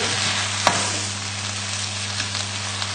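Spinach sizzles and wilts in a full frying pan, giving a continuous loud hiss with a few faint stirring clicks. No speech.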